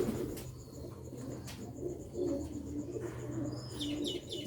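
Several pigeons of a Sialkoti breed coo steadily in low, soft rolling phrases that run continuously through the scene, with faint chirps and a brief burst of wing or higher calls near the end.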